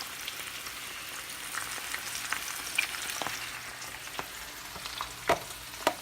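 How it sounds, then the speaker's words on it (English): Home fries frying in a pan, a soft continuous sizzle with scattered crackles and a few sharper pops near the end, fairly quiet with no voices. "I have my home fries in the pan there"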